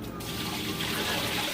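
Water rushes and splashes steadily inside a Panasonic Turbo 12.5 automatic washing machine during the rinse cycle on bedsheets and pillowcases, a close, continuous swirl.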